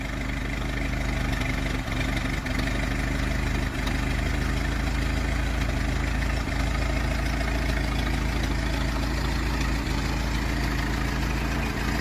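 A 1926 Ford Model T engine runs steadily at a car auction, a continuous close low rumble and chug that holds even for about twelve seconds, loud and alone, with faint scattered knocks.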